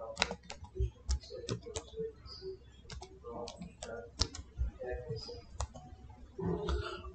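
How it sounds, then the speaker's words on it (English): A computer keyboard clatters with quick, irregular bursts of key clicks close by, mixed with occasional mouse clicks, while a person talks over it. "click on start, type internet options"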